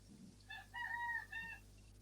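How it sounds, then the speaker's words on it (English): A rooster crows once in the distance, a drawn-out call in several rising and falling parts over a quiet outdoor background. "Do we hear your roosters again, Wild Man?"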